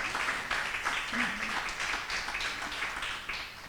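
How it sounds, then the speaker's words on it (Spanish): An audience applauds two senators at a forum on the legal capacity of people with disabilities, soft, moderately dense clapping heard from a distance, with some voices mixed in. "yo quisiera pedir solo un aplauso para las dos senadoras que están aquí"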